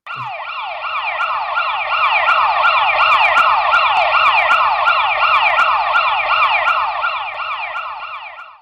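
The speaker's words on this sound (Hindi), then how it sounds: "That is, the pitch of the siren increases." A loud ambulance siren sweeps rapidly and repeatedly up and down in pitch, close and continuous for several seconds, with a faint low rumble beneath.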